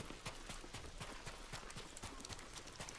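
Horse hooves clip-clop steadily in the video game Ghost of Tsushima, a quiet, even rhythm of footfalls with no talk.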